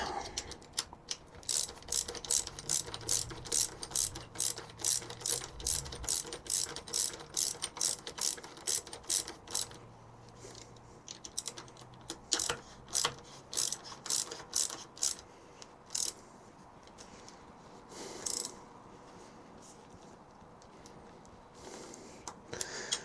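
Ratchet tightening the handlebar riser bolts on a Suzuki DL800 V-Strom while fitting 30mm Evotech risers: a rapid run of close, loud clicks, a pause, then shorter bursts of ratcheting, with no talking.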